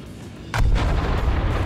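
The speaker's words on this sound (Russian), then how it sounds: "Классно, да? Взрывается бомба." A mortar bomb in Garry's Mod explodes in a sudden heavy blast, followed by a deep rumbling roar that lingers at full loudness, with no voices.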